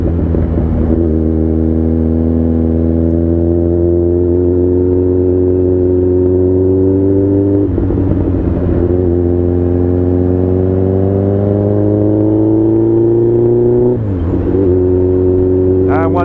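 A Yamaha XJR 1300 motorcycle engine revs hard through three rising pulls, each climbing in pitch and then dropping at a gear change. It sounds loud and close, heard from the rider's position.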